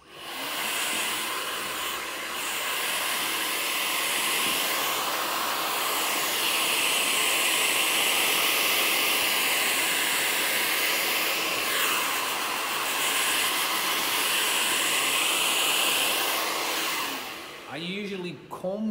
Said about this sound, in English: our next step, vent brush and blow dry. Okay, medium heat, full strength.